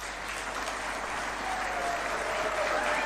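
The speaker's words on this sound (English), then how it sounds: "Let's clap for that." Officials gathered at a State House event clap for a newly recognized tax commissioner, steady applause of moderate strength continuing evenly throughout.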